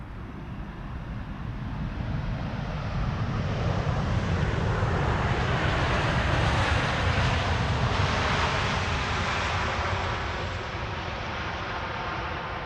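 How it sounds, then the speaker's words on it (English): A KLM Embraer 175 airliner arriving from Prague at Amsterdam Schiphol passes as a broad jet roar that swells to a peak mid-pass and then eases off, steady and fairly loud with no talk. "KLM flight 1352 arriving from Prague next in Embraer 175. There it is."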